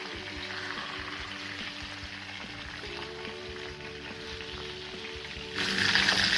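Kerala-style fish fry shallow-frying in a pan, a continuous close hiss of oil that swells noticeably louder near the end.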